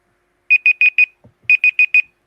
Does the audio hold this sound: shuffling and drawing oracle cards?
no